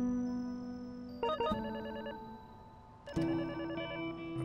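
A telephone rings in the background of the HackTag stealth video game, sounding in two electronic bursts over steady game music and ambience, with no one speaking.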